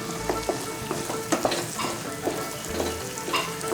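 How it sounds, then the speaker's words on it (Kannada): Onions frying in a pan for palak paneer, crackling and sizzling up close while a utensil stirs and scrapes in irregular bursts, moderately loud, with no voices. "ಈ ಈರುಳ್ಳಿ ಫ್ರೈ ಆಗೋಗ್ಲೇ ಅದು ಫ್ರೈ ಆಗುತ್ತೆ"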